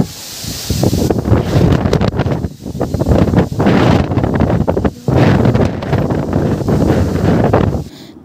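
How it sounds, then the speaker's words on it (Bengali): Strong gusts of wind batter the microphone in loud, continuous rumbling bursts, with a roaring, rustling rush through trees ahead of sudden rain and only short dips between gusts. "কি জোর হাওয়া দিচ্ছে, দেখো গাছপালাগুলো।"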